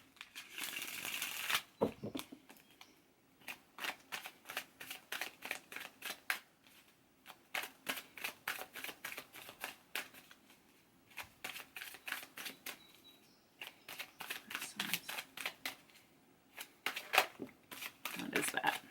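Tarot cards are shuffled close by in repeated bursts of rapid riffling and flicking, separated by short pauses. The sound is fairly quiet, with occasional soft talk.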